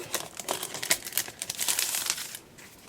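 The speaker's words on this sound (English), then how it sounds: "let's see the pack of paper ephemera that contains 6 sticker paper, 6 vellum paper, 6 art paper, and 6 pattern paper" A pack of paper ephemera with sticker, vellum, art and pattern sheets is unwrapped and handled, giving close, steady crinkling and rustling of plastic and paper that eases off near the end.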